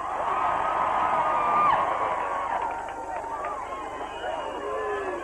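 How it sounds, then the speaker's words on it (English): A massive crowd packed into the square and the Diamond in Donegal Town roars and cheers to welcome the 1992 All-Ireland GAA champions. A continuous swell of whoops and voices is loudest early, then settles into a steady, distant hubbub. "introducing the team to the massive crowd that has gathered in the square and the diamond there in Donegal Town"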